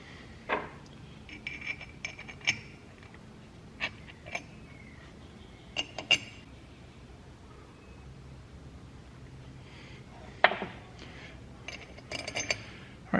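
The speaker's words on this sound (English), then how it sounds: "go ahead and put a lot of my bolts through" Metal bolts clink while a Norton Commando crankshaft is assembled: scattered, sharp little clinks close by, spaced irregularly over a quiet background, with no talking.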